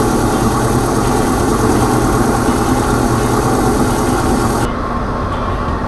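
A glass flat lap grinder about eight or nine years old runs with a steady, loud broadband whir and rumble that holds constant throughout, its upper hiss dropping slightly near the end.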